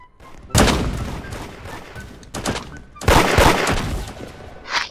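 Shotgun blasts in a Roblox Da Hood remake game, two loud bursts close together with crackling tails, fired in quick succession without talk.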